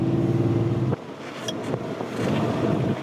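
A Ferrari 275 GTB two-cam engine running after service: a steady low drone for the first second, then a rougher, noisier idle with a few sharp pops breaking through.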